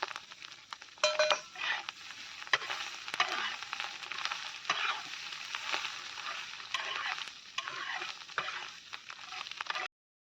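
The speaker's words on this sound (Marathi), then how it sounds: "अंडा आणि कांदा मस्तपैकी परतून घ्यायचा आपल्याला" Egg and fried onion stir-fried together for anda bhurji, a busy close sizzle broken by repeated spatula scrapes and taps against the pan, no talking.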